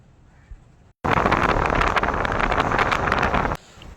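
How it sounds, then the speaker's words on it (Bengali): Wind roaring over a rough open sea aboard a fishing boat, a loud buffeting rush that starts suddenly and blasts steadily for a few seconds before dropping back to a quieter background. "বাতাসের গর্জন শুনতেই পাচ্ছেন"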